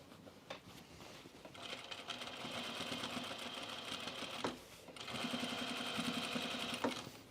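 A sewing machine stitching trousers runs in a steady, continuous mechanical whir, briefly pausing partway through before resuming at the same even pace.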